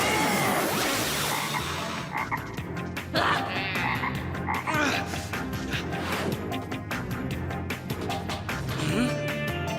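Toad croaking in a spooky magical setting, repeated rattling croaks at a moderate distance with faint background sounds.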